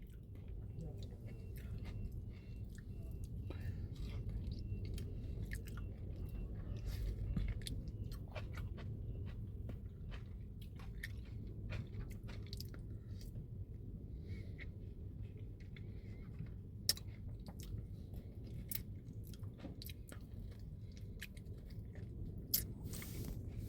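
Someone bites into and chews a juicy, ripe mango up close, with wet squishing and smacking mouth sounds over a steady low background rumble and occasional sharp clicks.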